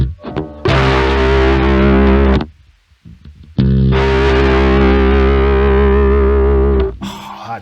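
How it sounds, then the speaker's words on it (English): A bass guitar plays a riff with vibrato, two long sustained phrases separated by a short gap, thick with ringing harmonics and an effected, slightly distorted tone, loud and close with no talking. "put vibrato on bass, and it actually brings out, you can maybe hear it brings out like harmonics and things"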